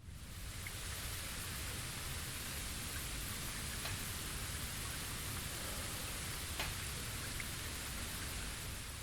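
Steady rain falls in the fighting game BLEACH Rebirth of Souls, a dense continuous hiss with faint scattered drop ticks, even and unbroken throughout.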